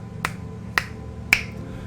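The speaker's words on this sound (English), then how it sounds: "I'm gonna snap my fingers in front of her face a little." Three sharp finger snaps ring out close and crisp at roughly even half-second intervals, the last one loudest, over a faint low background hum with no speech.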